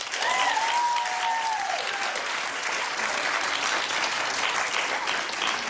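A talk-show studio audience claps steadily through the whole stretch, a dense even wash of applause at moderate level, with a brief whooping voice near the start.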